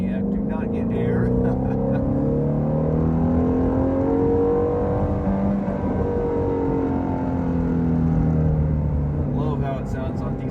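A 2020 Shelby GT350 V8 heard from inside on a winding back road, engine note rising and falling steadily through acceleration and deceleration, loud and continuous with no talking.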